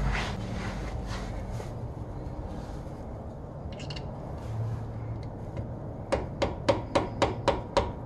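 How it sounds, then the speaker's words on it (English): A small hammer tapping a part of an 11.5 AAM rear end during a rebuild on a Silverado crew cab dually pickup, with metal scraping and handling noises first, then a quick, even run of about eight sharp, close metallic taps. "So let me get a small hammer."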